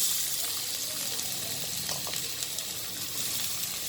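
Chopped onions frying in a pan for chicken aloo keema, a steady, bright sizzle that runs without a break, with a few faint scrapes of stirring.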